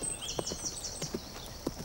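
Horse hooves clip-clop in a short, uneven series of sharp knocks during a showjumping scene where a pole is lifted to rap the horse's hind legs, with a steady high whine in the background.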